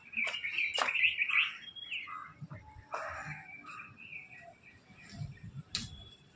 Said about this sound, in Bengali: পাখিগুলো কিভাবে উড়ে যাচ্ছে আমার মাথার ওপর দিয়ে